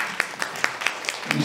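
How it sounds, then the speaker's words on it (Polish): Scattered applause at a Polish author event in a palace hall as a guest is welcomed on stage, with distinct individual claps standing out at a moderate pace and a voice rising near the end. "Wielkie brawa"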